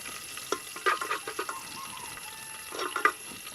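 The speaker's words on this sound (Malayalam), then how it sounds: "ഇനി നമുക്കിതിലൊരു 2 ടീസ്പൂൺ നെയ്യ് ഇട്ട് കൊടുക്കാം" Ghee heats and sizzles in a pressure cooker for chicken kabsa, with soft frying crackle and several brief spitting bursts scattered over a steady faint hiss.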